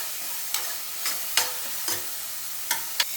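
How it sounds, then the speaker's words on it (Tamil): Chicken gravy in a pan is stirred with a spoon, giving a soft steady sizzle broken by six or so spaced scraping strokes, close and fairly quiet, with no talk. "ஸோ அதுதான் இப்போ கிண்டுறோம் நாங்கள்"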